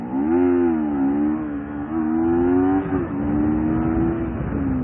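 A motorcycle engine revs up loudly and holds a steady, droning pitch as the rider lifts the front wheel slightly, throttle only partly opened. The engine note wavers a little over about five seconds, with no talking.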